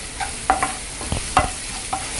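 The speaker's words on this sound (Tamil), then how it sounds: "நல்லா ஃப்ரை பண்ணிட்டோம்." Chopped onion and garlic fry in a pan with a steady sizzle, and a spoon scrapes and stirs in a few short strokes, close by with no talk.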